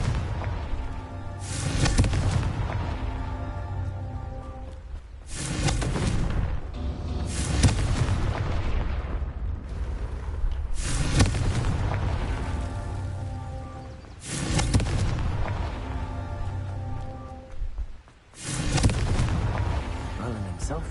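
Repeated Confringo blasting-spell explosions from Hogwarts Legacy, a series of loud booming bursts separated by short gaps, each decaying into a rumbling tail over game ambience.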